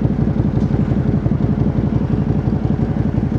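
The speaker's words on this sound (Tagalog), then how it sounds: "Yung narinig ko na naman yung idle ng motor." A motorcycle engine idles close by, its low, even putter pulsing in a quick steady rhythm throughout, with no voices.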